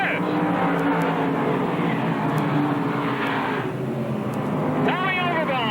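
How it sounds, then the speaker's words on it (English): Sportsman race cars roar together off turn four at a dirt oval, a loud, dense wall of engine noise with revving swells, while an announcer calls the action over it. "Here we go, the engines roar off of turn 4."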